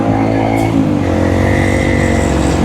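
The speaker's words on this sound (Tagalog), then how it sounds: "So maingay ngayon yung motor, oh." A loud motorcycle engine rumbles up close with a raspy muffler note, its pitch rising slightly as it revs.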